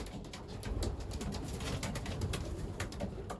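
A flock of young racing pigeons murmurs and coos continuously in their loft, with soft overlapping calls and light rustling close by.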